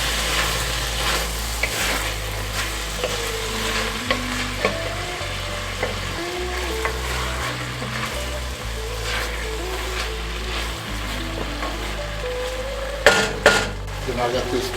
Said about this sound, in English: Mix that in there.